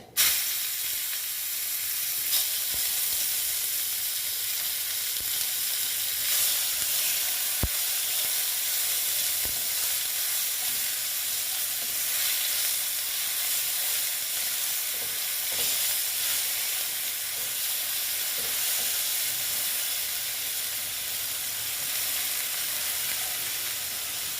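Sliced onions sizzling in hot oil in a pan for Bengali koi fish tel jhal, a steady close hiss of frying that runs on with faint clinks and stirring, with no talking.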